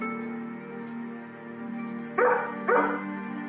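Two short, loud barks from a German shepherd close together near the end, standing out over a steady low hum.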